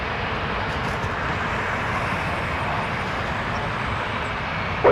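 Airliner engines roar steadily at Toronto Pearson airport, a loud continuous broadband rumble holding level throughout without pause.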